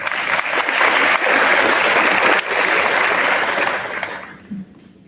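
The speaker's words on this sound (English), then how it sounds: "Mrs. Richards, please give her a round of applause" An audience at a senior awards ceremony gives a round of applause for an honoree, dense and loud for about four seconds before quickly thinning out and fading.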